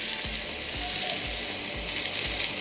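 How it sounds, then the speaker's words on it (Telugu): Green chillies frying in hot oil, a continuous close hiss and crackle with regular low knocking thumps repeating about every half second. "ఆ నూనెలో ఫస్ట్ మిరపకాయలు వేయించుకున్నాక కూడా గోంగూర వేయచ్చు"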